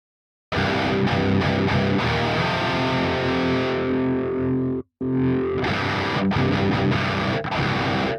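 A loud, heavily distorted electric guitar through a DS-1 distortion pedal, playing sustained chords, cutting out briefly midway before resuming with the same gritty, overdriven, nasal tone.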